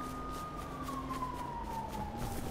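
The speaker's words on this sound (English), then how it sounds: "Oof, I hear sirens." Police sirens in a video game about Department of Justice cops, a single wailing tone sweeping slowly downward, steady and fairly loud over a continuous background rumble.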